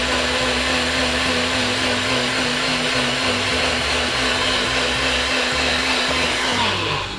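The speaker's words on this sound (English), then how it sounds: "And we're gonna blend." Countertop blender whirring through ginger and water, a loud, constant motor roar with a steady hum that holds for the whole stretch and starts to wind down at the very end.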